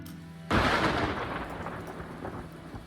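Thunder rolls in with a sudden loud crack and a long rumbling decay over steady rain during a thunderstorm in the video game Farthest Frontier, with no talking.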